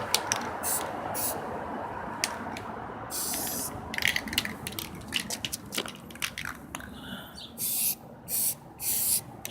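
Bursts of aerosol spray hiss in short blasts near the end, mixed with scattered clicks and rattling handling noises throughout.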